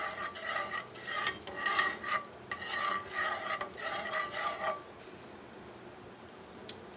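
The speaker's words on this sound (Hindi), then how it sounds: "मैंने हाफ़ टी स्पून इसमें ज़ीरे का डाल दिया है। इसको अच्छी तरह से हम फ्राई कर लेंगे।" Cumin seeds frying in oil in a pan for a masala chilli fry, with scraping stir strokes over a steady sizzle for about five seconds before the sound thins to a faint background hiss.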